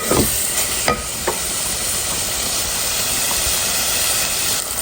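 Meat going into hot oil with ginger, garlic, cumin and coriander, frying and sizzling steadily with a constant hiss, a few clinks of a utensil against the pan near the start.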